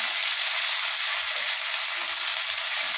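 Chopped tomato frying in hot spiced oil for a fish curry, a dense even hiss throughout with faint low scrapes of stirring underneath.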